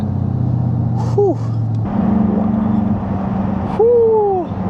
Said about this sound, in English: That's the new exhaust we put on.